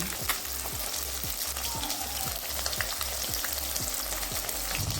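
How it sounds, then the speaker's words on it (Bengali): Rohu fish frying in hot oil on a gas flame turned down to low-medium, a steady close crackling sizzle with regular soft scraping knocks of a spatula every half second or so, no voices. "এবার মাছটাকে উল্টে পাল্টে ভালো করে ভেজে নেব"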